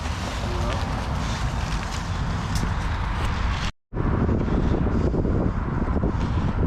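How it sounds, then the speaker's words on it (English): Wind buffets hard against the microphone during pine tree removal work in Shreveport, Louisiana, a steady loud roar that cuts out for a split second and then returns just as strong. "Wind's kicking up a little more than I care for"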